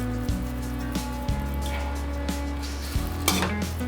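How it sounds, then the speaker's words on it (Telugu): Fried onions tipped into a pan for egg biryani give a steady sizzle and frying hiss, broken by a few clanks and scrapes of utensils against the pot, close and alone without talk. "ఇప్పుడు ఫ్రై చేసిన ఆనియన్ వేసుకోవాలి"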